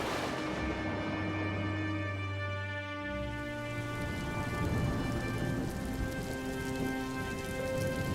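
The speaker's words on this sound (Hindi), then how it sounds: "इतनी ठंड में यह जोरदार बारिश भी होने लगी" Heavy rain pours steadily in a cold-weather cartoon story, a dense, continuous hiss of drops on surfaces with gentle background music tones running underneath.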